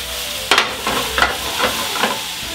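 Mushrooms and shallot sizzle in a pan, a steady frying hiss broken by five rhythmic scrapes and tosses as the spatula turns them.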